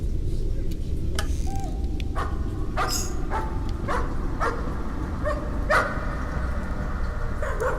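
A dog in the horror game Layers of Fear barks in sharp, scattered bursts, some close and loud, over a low rumbling ambient drone.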